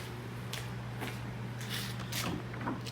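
A Chevy Trailblazer tailgate, freshly freed after being jammed shut, unlatches and swings open with a few soft mechanical clicks and clunks over a steady low hum.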